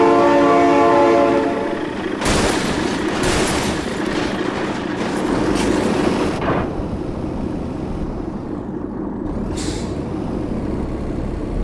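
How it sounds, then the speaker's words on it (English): A train rumbles past with a blaring horn and hissing air brakes in the BeamNG.drive driving simulator game, loud and close, the horn sounding in long blasts over the steady roar of rail cars. "Oh my God, train!"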